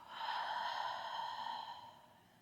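A single long open-mouthed exhale during a vinyasa yoga breathing sequence, a soft breathy rush of air that swells quickly and fades slowly over about two seconds, close and alone.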